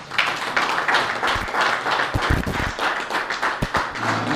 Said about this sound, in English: Please keep clapping for him until he comes here.